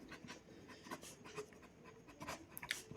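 Pen scratching quickly across paper while writing out a maths equation, a close series of short scraping strokes and taps in uneven rhythm with no talking.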